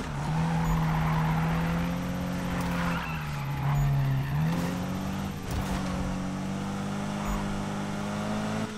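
Racing game car engine drones steadily with shifting pitch through gear changes, punctuated by brief tire skids and impacts, continuous and close throughout, in Need for Speed.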